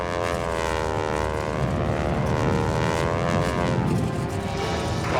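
Stearman biplane's radial propeller engine droning in flight, a steady, loud buzzing roar with a wavering pitch sustained throughout.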